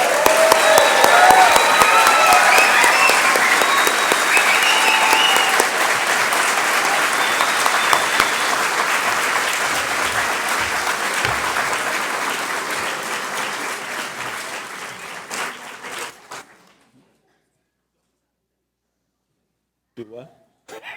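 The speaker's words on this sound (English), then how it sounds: "Let's give one more big round of applause for our graduates." Loud, dense applause from a large audience at a class graduation ceremony, sustained and gradually fading before stopping abruptly, followed by near silence with a brief faint sound at the end.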